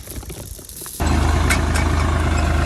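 Tractor engine idling steadily up close on a farm at soybean sowing time, a low rhythmic diesel chug that starts abruptly partway through and continues without pause.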